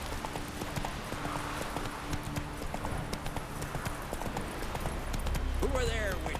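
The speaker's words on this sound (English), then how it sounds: "Whoa there, Roach." A horse's hooves clip-clop at a steady walking pace in the video game Witcher 3, moderately close and continuous beneath background game ambience, with a voice briefly audible near the end.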